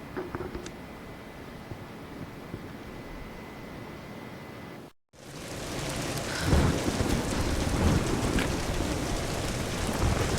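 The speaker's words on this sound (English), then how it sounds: "We're getting closer to the storm." A thunderstorm with heavy rain in the Tomb Raider video game: a softer wash of rain cuts to a brief silence, then returns as louder, denser rainfall with rumbling thunder, with no voices.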